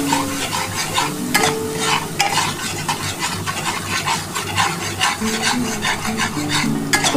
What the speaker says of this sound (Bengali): আমার কিন্তু ভালোভাবে মশলাটা কষানো কমপ্লিট হয়ে গেছে